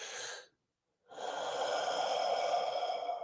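One person breathes deeply: a short airy breath cuts off into silence, then a long, steady, rushing breath follows. It is close and clear, with no talking.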